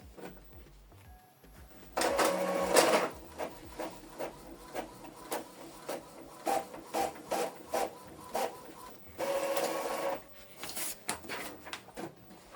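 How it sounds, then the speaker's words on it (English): An Epson EcoTank L3280 printer prints a test page, with a whirring feed followed by rhythmic rasping passes of the print head and another whir, close and steady. "So the document is printing."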